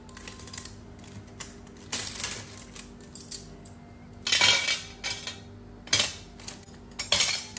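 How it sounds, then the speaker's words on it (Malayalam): Washed dishes and spoons are picked up and set down, making bursts of clinking metal and ceramic clatter separated by quieter pauses, close by, with no speech. "ഇനിയിപ്പോൾ ഇതാ തലേദിവസം കഴുകി വെച്ച പാത്രങ്ങളും ഇതുപോലെ സ്പൂൺ ഐറ്റംസ് എല്ലാം ഇങ്ങനെ എടുത്തു വെക്കാനുള്ള ഉണ്ടിനും."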